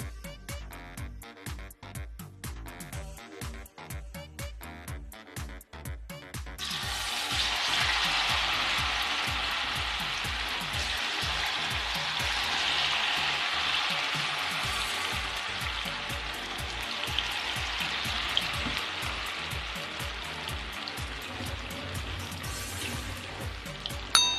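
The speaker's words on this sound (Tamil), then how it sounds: "எண்ணெய் சூடாயிடுச்சு இப்போ நம்ம பொரிச்சு எடுத்துக்குவோம்" Soya chunks (meal maker) deep frying in hot oil over a medium flame, a steady, dense sizzle rising after an opening stretch of clattering knocks, then holding loud and even to the end with no talk.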